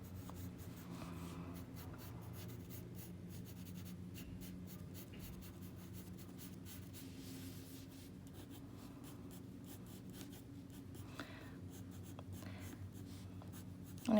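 Pencil scratching and shading on paper in quick repeated strokes, soft and close over a faint low hum, with no voices.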